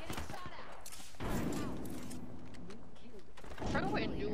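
Bursts of gunfire in a first-person shooter video game crackle through a busy mix of game sounds, with a voice and synthetic radio chatter over the shots at times.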